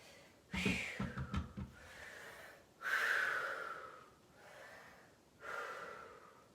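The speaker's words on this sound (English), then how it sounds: "Deep breaths, deep breaths." Deep, heavy breathing after a set of workout exercises: three long, audible breaths spaced a couple of seconds apart, close to the microphone, with a short burst of choppy breaths at the start.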